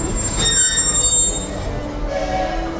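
Walt Disney World Railroad train rolling slowly, wheels squealing with high, drawn-out metallic screeches over a low rumble, close and loud, then easing off.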